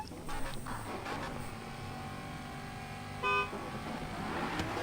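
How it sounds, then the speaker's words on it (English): Car horns honk in a racing video game just before the start of an elite battle round, with a short loud blast standing out over a steady bed of engine noise. "there are their horns"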